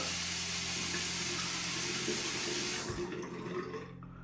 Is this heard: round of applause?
no